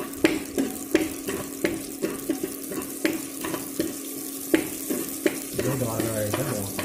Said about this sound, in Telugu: పోపు దినుసులు కొద్దిగా వేగిన తర్వాత బాగా